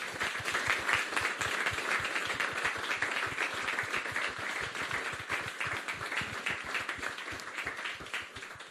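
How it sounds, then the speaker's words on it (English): An audience claps steadily in sustained applause, a dense, even patter of many hands without pause. "can we have a bit of a round of applause"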